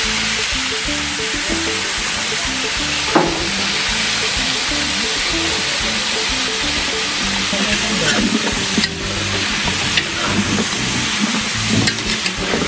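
Onions sizzling in a frying pan for rougail saucisse, a loud, unbroken crackling hiss close by with occasional utensil scrapes and small clunks throughout.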